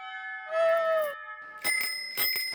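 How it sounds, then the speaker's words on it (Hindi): A bicycle bell rings clearly, first a sustained ring, then a quick series of bright dings after a short pause, loud and close. "अब इस साइकिल की घंटी की आवाज नहीं सुनाई देगी"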